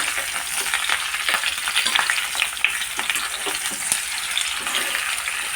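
Vegetables fry in a pan while being stirred, a close steady sizzle with scraping and clinking of the spoon throughout, no voices.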